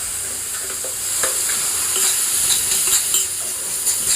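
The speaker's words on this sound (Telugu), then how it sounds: "ఈ ఆనియన్స్ అన్నీ దగ్గరికి అయ్యి గోల్డెన్ కలర్ వచ్చేంత వరకు మనం ఫ్రై చేసుకోవాలి" Onions fry with salt and turmeric in a pan, a loud continuous sizzle with scraping stirring strokes repeating throughout.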